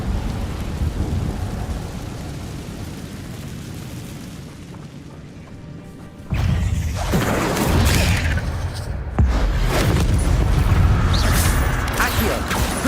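The Incendio fire spell being cast in the video game Banishers, giving a heavy roaring, crackling whoosh that bursts in loudly, falls back briefly, then surges again over a low rumbling background, with a voice speaking along.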